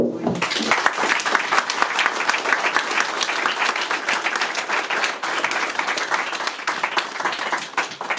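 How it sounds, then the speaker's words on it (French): Sustained applause from an audience honouring Francis Chouat at a ceremony naming a hospital room after him, dense steady clapping filling the room for several seconds without pause. "il mérite encore une fois qu'on l'applaudisse"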